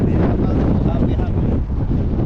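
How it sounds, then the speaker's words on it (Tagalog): Strong wind buffets the microphone in a continuous, loud roar with gusty fluctuations, and a voice can be heard faintly underneath. "Medyo malakas po ang hangin."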